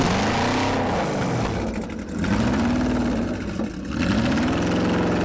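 A loud car engine revs repeatedly, its pitch rising and falling in wavy surges between rough idle-like stretches, close and dominant with no talking.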